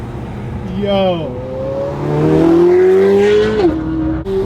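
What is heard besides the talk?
supercar engine revving on a downshift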